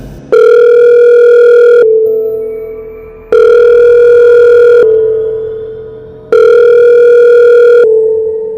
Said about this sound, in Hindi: इसीलिए उसने अपने मैनेजर को कॉल किया।